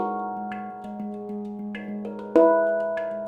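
Handpan struck in layered chords, bright metallic tones ringing and overlapping with long sustain, each new stroke blooming over the fading notes of the last, played alone with no voices.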